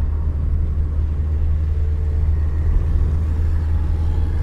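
Scion FR-S / Subaru BRZ running on flex fuel, a steady low engine drone and road rumble heard from inside the car, continuous and fairly loud with no talking.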